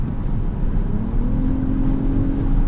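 The engine of a 2025 Lexus ES 350 F Sport accelerates, a steady rumbling drone whose pitch rises gradually, heard briefly and fairly loud with no speech.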